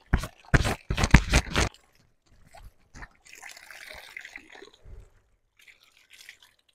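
Hill taro roots are washed by hand with water. Quick splashes and drips come first, then softer scraping and rubbing sounds follow, close and fairly quiet.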